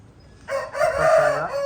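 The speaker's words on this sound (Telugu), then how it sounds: "పెట్టమారు పుంజండి" An aseel rooster lets out a single loud crow close by, rising and holding before cutting off.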